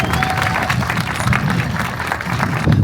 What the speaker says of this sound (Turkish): Hülya Lider hocama kocaman bir alkış alayım